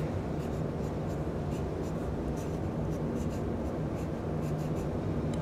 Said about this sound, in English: I'm just gonna write this over here